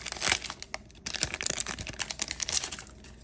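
A 1992 NFL Pro Set Series 1 football card pack being torn open, a close burst of crinkling foil wrapper followed by quick rustling and crackling tears, fairly quiet and without speech.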